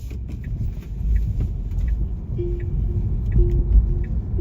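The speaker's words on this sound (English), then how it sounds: "We have to start the car from here." A car started on a Manhattan street in New York City, its engine idling as a low steady rumble with a faint tonal hum, accompanied by scattered clicks and background street noise.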